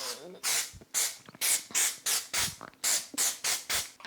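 Glitter setting spray hisses from a pump bottle in about ten quick, evenly spaced bursts, each a bright close-up spritz with brief gaps between.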